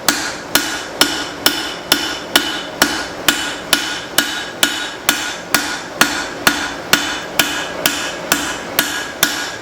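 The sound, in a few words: hammer forging spring steel cleaver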